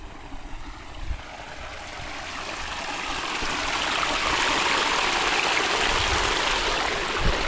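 Irrigation water flows in a channel beside a field of singkamas ready for harvest: a steady broadband rush that swells slightly midway and stays loud and close, with low thumps early on and no talking.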